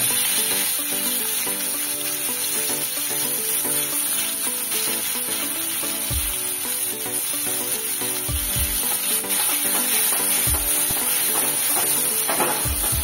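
Hot oil sizzles loudly and steadily as chopped onion fries, with a few low knocks and scrapes of stirring near the pan.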